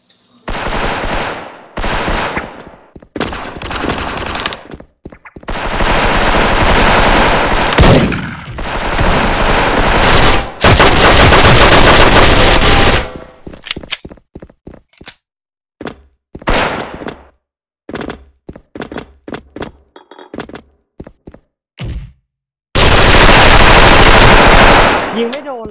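Loud automatic gunfire in a video game, long sustained machine-gun bursts broken by short gaps and single shots, close and dominant throughout.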